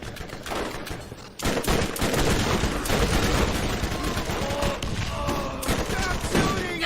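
Dense rapid gunfire from the video game Borderlands, sustained bursts of automatic shots filling the clip, loud and close, with game sounds layered underneath.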